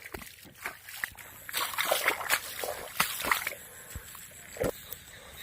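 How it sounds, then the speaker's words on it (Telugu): Water sloshes and splashes up close in irregular bursts through a large hole breached in a paddy field bund, with gurgling flow and occasional sharp knocks. "పెద్ద హోల్ పడ్డది. హోల్ పడి నీళ్ళని వెళ్ళిపోతున్నాయండి."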